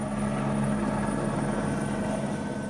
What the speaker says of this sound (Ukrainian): за допомогою гелікоптера струшувати сніг із дерев